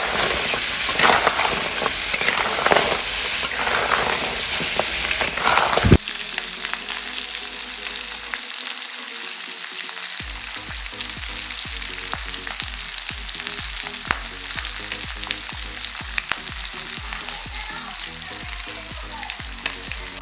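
Crab for a curry frying in oil in a pan, first as a loud, dense sizzle and then a softer, steady crackle with occasional stirring clatter and no talk.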